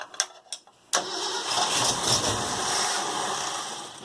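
A 1965 Ford F100 engine cold-starts after a few short cranking bursts, catching abruptly and settling into a loud, steady idle up close.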